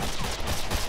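Gunfire from the post-apocalyptic video game Wasteland 2, a dense burst of low booming shots packed close together, loud and continuous for under a second with no talk.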